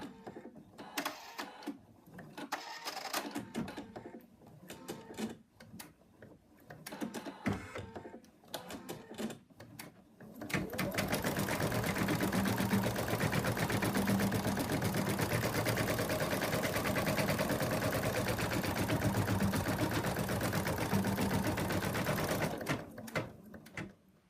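An embroidery machine stitches an outline on fabric, first in short stop-start bursts, then settling into a long, steady, rapid mechanical chatter close by before it stops. There is no talking.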